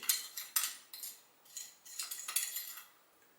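A metal spoon clinks and scrapes rhythmically against a small vessel, dissolving ammonium crystals in a tablespoon of water, several quick stirring strokes in a row, close and clear.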